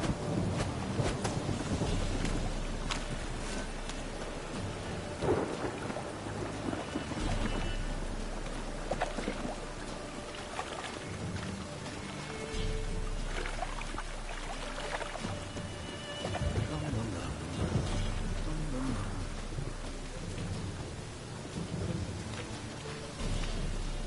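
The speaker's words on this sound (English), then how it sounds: "A storm, damn it." A thunderstorm with rain in The Witcher 3: Wild Hunt, with a constant heavy rain hiss and wind, and deep rolls of thunder swelling at intervals, loud and alone without speech.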